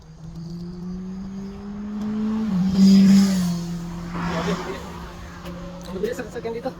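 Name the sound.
cars speeding past on a road in South Korea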